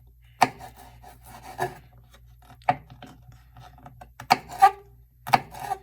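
Vegetables chopped into small bite-sized pieces for cowboy caviar: a few crisp, close knife strikes spaced irregularly with quiet gaps between, and no talking.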